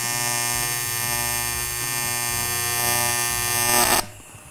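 Arc welding on metal cans gives a steady, loud electrical buzz with dense crackling that runs continuously for about four seconds, then cuts off abruptly, leaving a faint residual hum.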